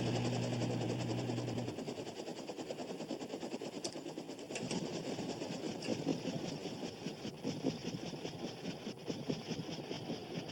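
Heard from a low-flying aircraft above the tracks, a passing train blends with the rumble of the aircraft's engine, a steady churning drone with rhythmic pulsing that holds throughout.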